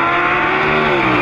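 A Lamborghini Gallardo LP560 sports car is driven hard, its engine a loud, close, continuous roar with a slightly rising pitch.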